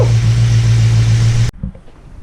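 A 289 engine runs just after its first start-up, a steady loud idle with a strong low hum for about a second and a half, then cuts abruptly to quiet background noise.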